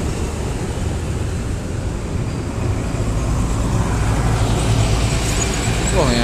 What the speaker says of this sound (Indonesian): Wah ini ada truk boys